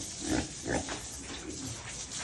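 A pig grunts and oinks in a few short bursts while it is being bathed, close by, over steady background noise with no speech.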